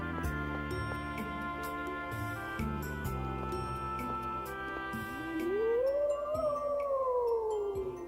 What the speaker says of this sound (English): More weird howling.